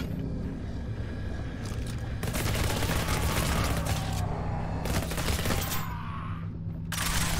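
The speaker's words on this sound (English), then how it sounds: "Shots." Gunfire in the video game Revulsion, rapid bursts of shots in a continuous fusillade that fades near the end, loud and up close.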